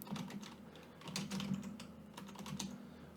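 Quiet, steady clicking of a computer keyboard as someone types commands into a terminal. A low hum runs underneath the rapid, irregular keystrokes.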